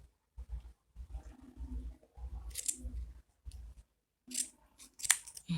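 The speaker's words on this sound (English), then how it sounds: "we bring our pair of scissors and we cut this yarn that we've made" Scissors snip through handmade yarn while a door mat is being made, giving several short, close cutting sounds spaced between quiet pauses, with a few sharper clicks near the end.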